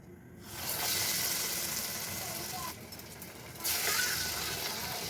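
Dal vadas sizzle and crackle steadily in hot oil in a home kitchen in Odisha, a loud, continuous fry that dips briefly and then surges again, with a voice faintly underneath.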